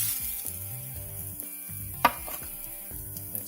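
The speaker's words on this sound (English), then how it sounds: "now we're going to add the breadcrumbs" Breadcrumbs sizzling in a pan with melted garlic, a constant crackling fry with a sharp scrape or clatter of a utensil at about two seconds and light stirring noises.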